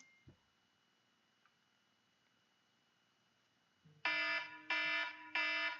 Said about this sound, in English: the timer is going off